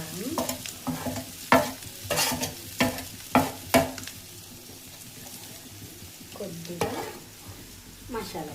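Spices such as coriander powder, salt, chilli powder and masala powder being stirred into a Vijayawada-style curry in a pan: repeated scraping strokes with a steady sizzle beneath, loud and close, sounding alone without talk.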